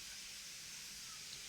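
Water comes to a boil in a cooking pot before rice is added, giving a steady, quiet hiss and bubble throughout with no talking.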